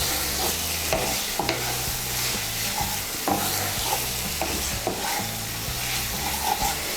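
Fried potatoes being stirred into a poppy seed spice paste in a sizzling pan, with steady frying hiss and repeated scraping strokes of a spatula, close and continuous, while background music plays under it.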